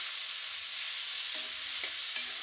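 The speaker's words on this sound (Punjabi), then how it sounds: "ਪਿਆਜ਼ਾਂ ਨੂੰ ਵੀ ਆਪਾਂ ਬ੍ਰਾਊਨ ਹੁੰਦੇ ਤੱਕ ਪਕਾਵਾਂਗੇ ਜੀ" Onions frying in a pan until brown hiss in a dense, even sizzle, with light scraping from stirring toward the end.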